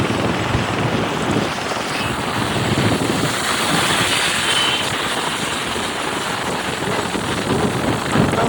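Rain pours down steadily in a dense, constant wash with gusty wind buffeting the microphone. The roar stays loud and unbroken throughout, with no voices.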